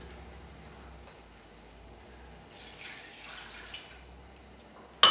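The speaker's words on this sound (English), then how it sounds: "We're going to add water now." Water pours into a cooking pot with a soft, brief splashing rush that rises for about a second amid quiet kitchen background, followed by a sharp clunk at the very end.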